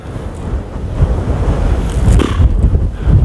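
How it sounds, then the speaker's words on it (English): Strong wind on Sourton Tor, Dartmoor, buffets the microphone with loud, rumbling low-frequency gusts that rise and fall, and no one speaks. "it is really, really windy"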